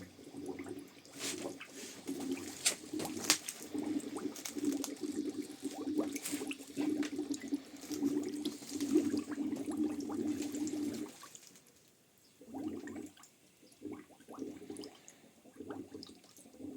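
Air and water sputtering and gurgling out of a bleed valve on an underfloor heating manifold, an uneven run of close hissing and spitting bursts that stops briefly near the end and then returns.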